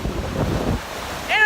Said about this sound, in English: Just listen to that ocean roar.